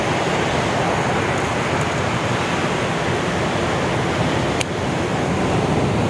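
Strong sea waves at a fishing spot roar as a steady, loud wash of surf with wind, continuous and close throughout, with a brief soft knock near the end.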